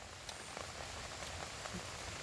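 Rain falls steadily on surfaces outdoors, a dense even patter with scattered individual drops, moderately loud and continuous with no voices.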